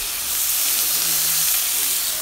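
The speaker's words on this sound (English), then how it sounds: "now I'm deglazing the pan with a little bit of lemon juice" A hot pan deglazed with lemon juice and garlic gives off a loud, steady hissing sizzle with a burst of steam, close up and uninterrupted.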